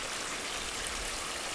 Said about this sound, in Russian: Ручей выбегает где-то прямо из-под дороги.